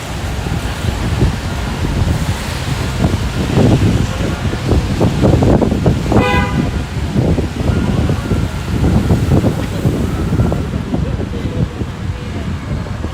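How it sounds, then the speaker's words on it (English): Wind gusts rush and buffet a microphone on a street in Times Square on New Year's Eve, a loud, steady roar with people talking underneath. "it's getting a little bit windy"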